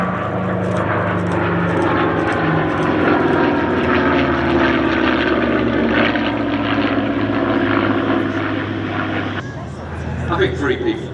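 Several P-51 Mustang propeller warplanes drone loudly overhead at the Sywell airshow, a steady, dense engine roar holding throughout before easing slightly near the end as crowd noise and talk come through.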